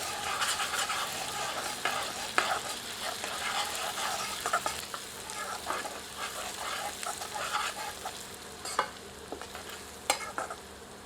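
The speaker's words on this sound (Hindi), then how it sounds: "अब इसमें 1 टेबलस्पून जिंजर गार्लिक का पेस्ट ऐड करते हैं। मिलाकर 1 से 2 मिनट भूनते हैं।" Ginger garlic paste stirred and fried in a pan for aloo palak, giving a continuous soft sizzle with repeated spoon scrapes and knocks against the pan, close and fairly quiet throughout.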